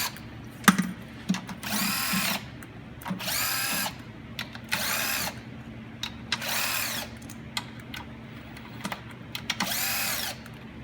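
A power drill loosens the 10mm bolts on a Cadillac intake manifold, running in about five loud whirring bursts of a second or so each, separated by pauses with light clicks and ratchet-like tool handling.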